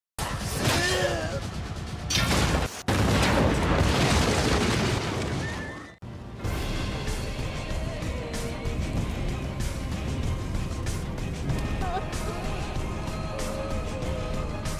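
In an anime, a character blows himself up in a loud, dense explosion: a sustained roaring blast that cuts off abruptly, then a second rumbling burst, followed by a lingering noisy din with scattered tonal effects.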